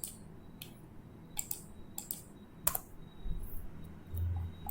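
Sparse keystrokes and clicks on a computer keyboard while drafting a house plan in AutoCAD, a few separate taps heard close over a low room hum, with a deeper rumble toward the end.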